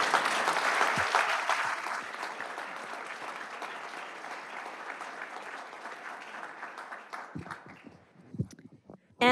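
A commission meeting room audience gives sustained applause for an honoree, strong at first and then thinning gradually to scattered claps before a voice starts speaking at the very end.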